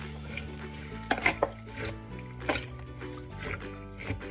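Soup ingredients being stirred together in a soup maker filled to the max line, giving soft wet squelches and scraping clinks that come in irregular bursts, fairly close and moderately loud, with steady background hum.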